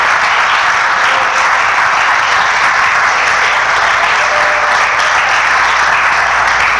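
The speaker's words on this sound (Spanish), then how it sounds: "Un aplauso al Señor fuerte, aleluya." A church congregation applauds loudly and steadily, a dense, unbroken wash of many hands clapping close by for several seconds, with no clear speech over it.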